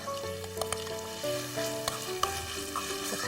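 Chopped clam meat stir-frying with garlic in a pan, a steady close sizzle with scattered clinks and scraping taps of a utensil stirring through the pieces, without any talk.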